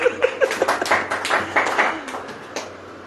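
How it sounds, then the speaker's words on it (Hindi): Hands clapping in a church congregation during a Hindi sermon, a handful of sharp claps at first that thicken into a brief rhythmic patter over about three seconds, fairly close, with faint voices mixed in. "ताली बजाओ।"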